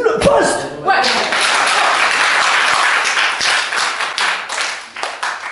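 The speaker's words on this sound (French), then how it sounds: "Et là, vous allez m'applaudir, parce que j'ai eu le poste." A comedy show audience bursts into applause for a stand-up performer, with a brief spoken moment and some laughter at the start before dense clapping swells and holds, then thins out near the end.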